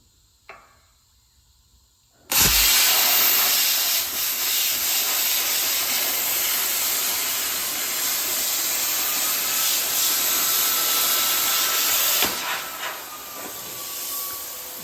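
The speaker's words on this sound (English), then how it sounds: "now I'm getting ready to cut it out with the plasma cutter" Plasma cutter slicing through a metal engine mount: after a faint click, a loud, steady close-up hiss and roar starts abruptly and holds for about ten seconds, then cuts off into a short fading tail.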